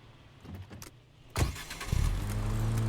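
A blue car in the video game Fate Trigger starts up and drives off, a sharp burst followed by a steady engine drone that builds and holds loud and close.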